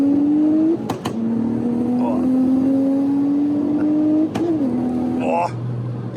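Audi RS4 B5 driving on snow, its engine droning steadily near and loud with a rising revving pitch, briefly dipping and recovering as it shifts, with occasional sharp clicks and knocks inside the cabin.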